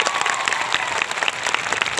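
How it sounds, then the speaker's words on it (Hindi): A crowd at a political rally claps hard and steadily, a dense wash of many hands that carries on unbroken for the whole stretch, with no talk over it. "तालियां बजा के स्वागत करिए फिर सबका"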